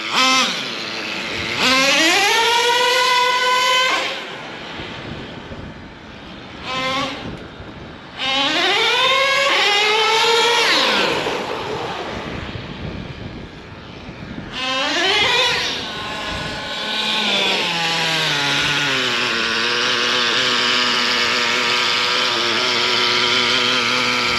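Traxxas T-Maxx nitro RC truck engine with idling, acceleration and stalling trouble, loud and close: it revs up in several rising, buzzy bursts with brief drops between, then settles into a steady high-pitched running drone.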